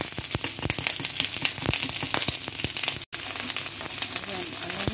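Frozen ground pork hitting hot oil in a pan for gisadong cabbage, a loud steady sizzle with sharp crackling pops and a brief dropout partway through, with no one talking over it.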